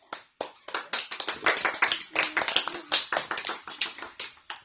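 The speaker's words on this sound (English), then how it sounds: "Clap, clap, clap, clap." Hand clapping in a quick, irregular run of sharp close claps lasting several seconds, with no voices heard.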